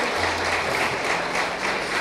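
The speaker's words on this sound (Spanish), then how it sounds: "Dale un aplauso a Cristo." A church congregation bursts into sustained applause during a Sunday service, broad and steady clapping from many hands filling the room for a couple of seconds with no talk over it.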